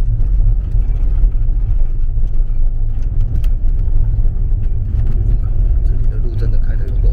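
A car engine labours up a very steep mountain road toward a campsite at about 1100 metres in the hills. It makes a loud, continuous low rumble and drone that stays steady throughout, heard from close inside the vehicle.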